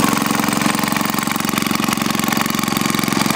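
Rebuilt vintage Maytag engine running after refueling and starting, a loud, fast, evenly pulsing putter that holds a steady rhythm throughout with no talking.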